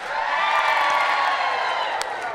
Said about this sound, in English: Now I need somebody, anybody, everybody to scream.